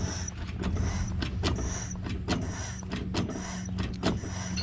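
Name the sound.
pumping brake pedal while bleeding brakes, 1961 Pontiac Laurentian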